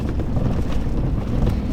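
Wind gusts buffet the microphone on a Michigan deer hunt, a dense low rumbling roar that fills the short stretch without pause.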